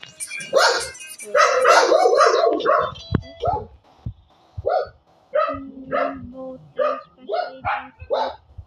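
Dogs at home bark and yip in rapid bursts, loud and close, with some whimpering calls mixed in and a voice talking briefly under the early barks.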